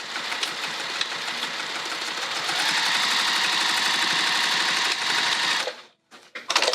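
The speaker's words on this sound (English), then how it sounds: "All right, let's sew this down." A sewing machine stitches a bag, its motor whirring in a fast, even rhythm that rises and holds steady, then stops near the end, followed by a few brief handling sounds.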